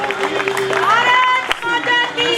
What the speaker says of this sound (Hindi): जोरदार ताली, जोरदार ताली